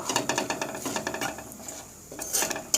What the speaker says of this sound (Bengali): এবার এটা একটু 1 সেকেন্ড একটু ভেজে নেব।